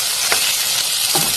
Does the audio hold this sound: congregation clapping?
no